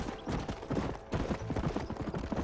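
A horse gallops in the video game Red Dead Redemption, its hooves pounding a rapid, repeating rhythm of thudding beats close up, without speech over it.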